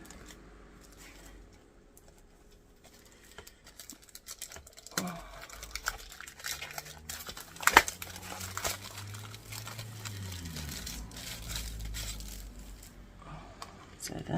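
Plastic shim and clear plate of a Pogi die cutting machine being handled and set down, giving soft crinkling, tapping and sliding clicks, with a few sharper knocks midway, close and fairly quiet.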